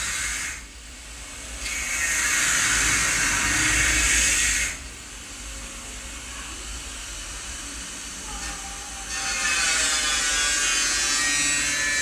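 Sewing machine stitching a neckline design on fabric, running in two steady whirring bursts with a quieter pause between them.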